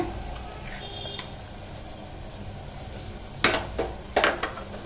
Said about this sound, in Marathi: वाटप पण ना या तेलामध्ये ना छान असं परतून घ्यायचं आहे।